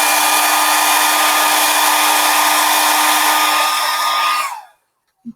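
A hair dryer blasts continuously at close range over wet watercolour paint, a loud steady whirring roar that cuts off abruptly near the end, followed by a brief soft knock.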